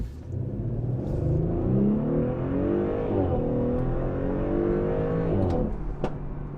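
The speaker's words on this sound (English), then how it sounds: "you got a nice pop from the exhaust when I let off the throttle" An Audi SQ5 Sportback engine revs hard as it launches from a dead stop, the pitch climbing through gears, then the throttle lifts and a couple of sharp exhaust pops crackle.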